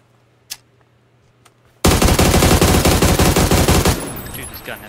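Rapid automatic gunfire in a video game erupts after a quiet stretch with a couple of isolated clicks, blasting loudly in a dense burst for about two seconds before trailing off into softer noise.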